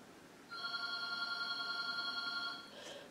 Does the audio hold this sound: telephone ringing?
yes